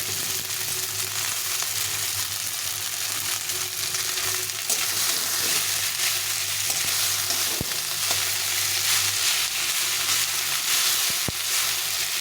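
Onion and garlic frying for chow mein in a hot pan give a steady close sizzle throughout, with a few faint clicks of a utensil and no talking.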